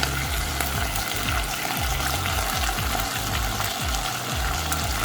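Methi (fenugreek) leaves going into a reduced, mushy koi fish curry in a hot pan: loud continuous sizzling and bubbling with repeated low thumping pops, heard close up and alone.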